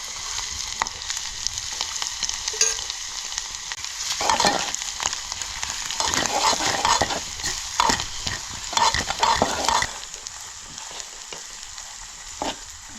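A garlic and masala paste for a crab curry is stirred and fried in a pan, with a constant soft sizzle and repeated scraping stirring strokes, louder in the middle stretch, with no voices.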